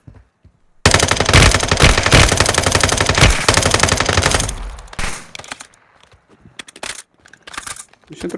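Automatic weapon fire in the Warzone Mobile shooter game: a loud, sustained burst of rapid gunshots for about four seconds, then scattered quieter shots and in-game noises.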